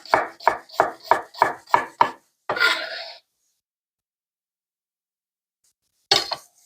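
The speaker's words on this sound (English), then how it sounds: "Let's chop up an onion. Just want these diced," An onion being chopped and diced on a cutting board: a rapid, evenly spaced run of about seven sharp knife strikes, a brief scraping sweep, then silence and one last chop, close and crisp.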